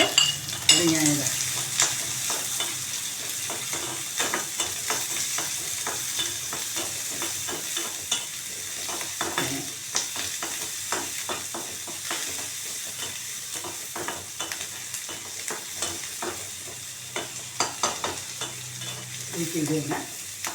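Small shallots fry in hot oil with mustard seeds that have already popped, for a Kerala spinach thoran. A steady close sizzle runs throughout, broken by repeated scraping and clinking of a spoon stirring the pan, with no talking.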